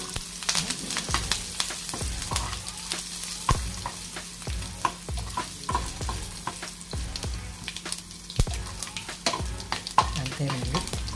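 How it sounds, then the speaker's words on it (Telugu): Asafoetida and curry leaves crackle in hot oil for a dondakaya pachadi tempering, with a continuous close sizzle punctuated by many sharp spattering pops and stirring clicks. "చూడండి కొద్దిగా ఇంగువ వేస్తున్నాను, కొద్దిగా కరివేపాకు వేస్తున్నాను."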